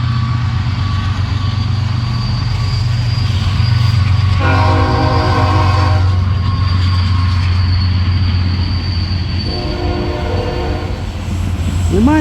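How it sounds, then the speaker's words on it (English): Freight train rolling past at close range with a steady low rumble and clanking wheels, while its horn sounds two loud blasts, a long one in the middle and a shorter one near the end, with faint wheel squeal. "But the train action doesn't pause for long."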